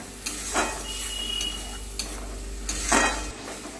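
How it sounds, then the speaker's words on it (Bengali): Egg korma with cashews and onion paste frying in a pan, a soft steady sizzle broken by several scraping stirs of a spoon against the pan. "আমি এটা ভালো করে সুন্দর করে কষবো"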